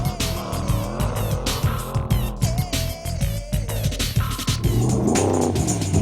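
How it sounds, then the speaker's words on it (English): Pro Truck off-road racing trucks roar past at speed, engines loud and revving with rising and falling pitch, plus sharp tire and gravel noise throughout, close and continuous. "Move aside because Pro Trucks are coming through."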